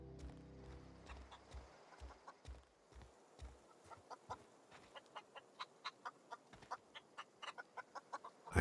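A chicken in the video game The Outer Worlds clucks in a steady series of short, sharp pecking notes, fairly faint and spaced evenly over several seconds with no talk.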